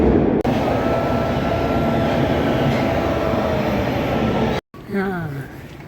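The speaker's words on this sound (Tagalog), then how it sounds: "mamaya na lang kasi nandito yung train" A train pulls into a station with a loud, sustained roar and rumble that fills most of the moment, then cuts off abruptly and is followed by brief talking and quieter station ambience.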